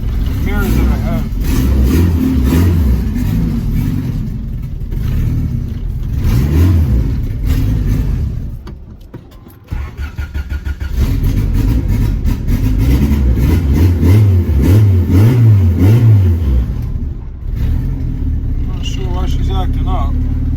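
A car fitted with new turbo parts revs and accelerates on its first drive, a loud mid-pitched engine droning and surging with a brief dip midway, while people talk over it.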